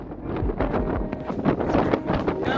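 Gusty wind buffets the microphone on an exposed mountain summit along the Appalachian Trail, a loud, continuous low roar with rising and falling gusts and no speech.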